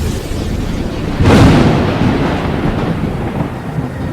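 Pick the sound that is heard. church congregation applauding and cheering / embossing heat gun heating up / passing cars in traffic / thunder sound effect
thunder sound effect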